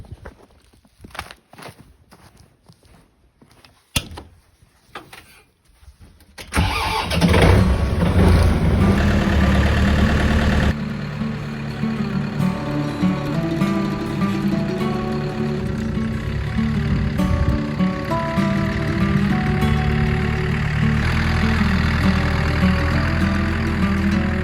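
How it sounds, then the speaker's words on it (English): A tractor engine on a snowy farm fires up after a few scattered footsteps and knocks, then settles into a loud, steady running drone that continues to the end, with no talk. "So let's fire up the tractor here"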